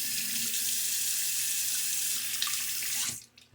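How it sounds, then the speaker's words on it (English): A bathroom tap runs steadily while a razor is rinsed under it, a close, continuous rush of water that cuts off abruptly near the end. "Razor is rinsed."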